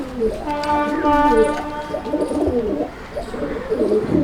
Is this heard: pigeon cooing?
yes